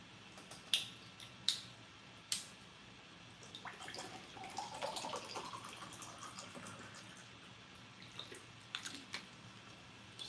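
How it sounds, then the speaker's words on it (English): Water runs from a tap in a brief, gentle stream, framed by a few sharp clicks and clinks nearby. "I'm gonna get me some water."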